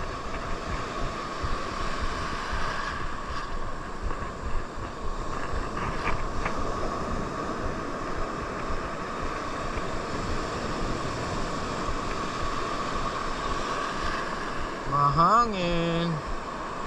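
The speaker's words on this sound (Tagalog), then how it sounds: "Yan o, lalaki ng alon." Ocean waves wash and roar steadily against a constant rush of wind noise during shore fishing, with a brief mechanical whir near the end.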